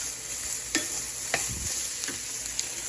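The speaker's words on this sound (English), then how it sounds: "I am beginning this video browning a pound of ground turkey." A pound of ground turkey browns in a frying pan, a steady low sizzle with a few sharp scrapes of a utensil stirring the meat, nearby and with no voices.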